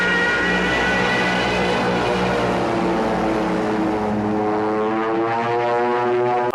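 A propeller airplane in flight during a Roger Moore-era James Bond film scene gives a loud, steady droning roar with strong tonal harmonics. It holds constant throughout with no voices.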